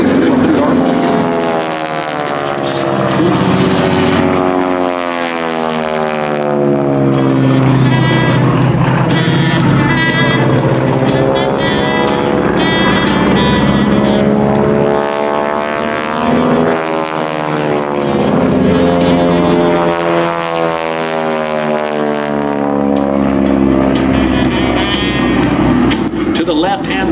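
SNJ warbird making a low airshow pass at MCAS Beaufort, its propeller tips going supersonic near 2,400 RPM: a loud, rasping drone whose pitch sweeps up and down as the plane passes, with an announcer talking over it.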